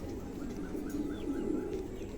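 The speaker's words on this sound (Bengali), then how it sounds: "2টো কবুতরই মাশাআল্লাহ চমৎকার" Pigeons, Mundi males kept for sale, give low soft coos under a steady murmur of background noise, with faint bird calls through the clip.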